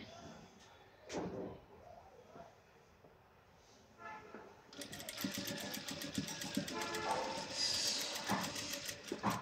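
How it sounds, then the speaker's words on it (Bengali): A sewing machine stitches slowly over lace, starting after a quieter stretch and then running in a steady fast rhythmic whir, close and fairly loud, with faint background sounds. "আর লেইচের উপর দিয়ে সেলাই করা অনেকে সহজ মনে করে, লেইসের উপর দিয়ে সেলাই করা সো টাফ।"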